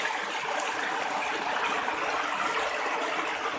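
A wide river in Masbate flows past with a steady, broad rushing of water, heard close and constant, no voices over it.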